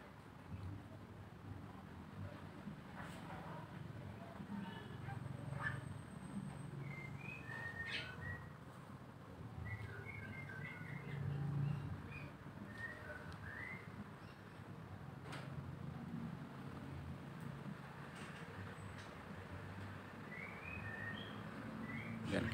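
Birds in an aviary crowding together to feed: sparse, faint chirps and short whistles scattered over a soft bed of wind and outdoor ambience.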